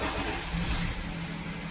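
A 2003 Honda CR-V engine idles smoothly after an idle relearn, a steady, even hum with a broad hiss close by, holding constant throughout with no talking.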